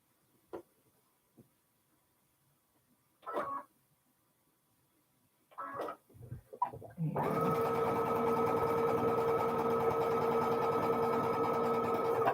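A sewing machine stitching star points for quilt blocks runs steadily and loudly for the last five seconds, after a few soft handling clicks and rustles.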